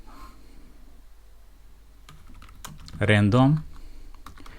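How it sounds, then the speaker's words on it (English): Keys clatter as code is typed on a computer keyboard, a short run of quick taps before someone speaks over the last of the keystrokes. "So I'm going to type here import"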